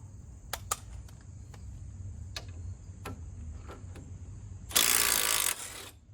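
A ratchet works on a bolt at the upper strut mount of a 2002 Ford Focus, with scattered sharp clicks over a constant high whine, then a brief loud burst of broadband noise near the end; no talking.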